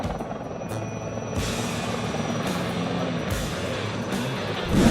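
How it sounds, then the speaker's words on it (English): Sky crane heavy-lift helicopter flying, its continuous whirring rotor and engine roar steady and moderately distant, with a slight swell in loudness toward the end. "Yes, it's a sky crane,"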